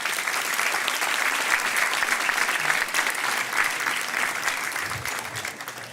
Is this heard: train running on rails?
no